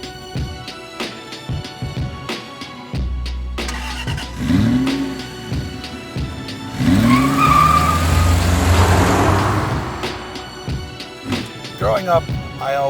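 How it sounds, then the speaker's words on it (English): Porsche Panamera Sport Turismo 4S wagon engine firing up and revving hard, a close rising roar with a sustained loud burst in the middle, then settling, with a voice exclaiming briefly around it. "This is a Porsche Panamera Wagon."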